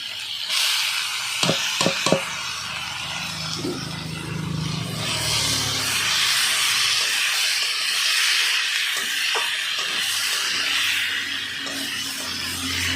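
Chopped banana flower frying in a pan with potatoes and spices, giving a continuous close hiss and sizzle with a few sharp clinks of a utensil early on and some soft scraping.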